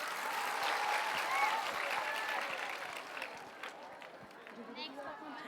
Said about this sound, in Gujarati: તો તાળીઓ પણ એવી વાગવી જોઈએ ને.